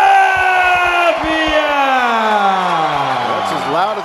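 Big boxing crowd roaring and chanting for an undefeated Puerto Rican fighter walking to the ring, a loud sustained wall of voices with rising, sliding chant tones.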